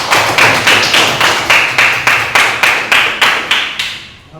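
Applause from a classroom of students welcoming a student group forward to present, a short burst of rhythmic, fairly loud clapping that keeps a steady regular beat throughout.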